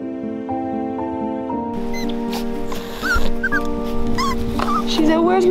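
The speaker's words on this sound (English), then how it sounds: "Yeah, you got a little puppy." A newborn puppy whimpering and yipping in high, wavering squeaks over a steady tonal background hum, growing louder toward the end as people talk nearby.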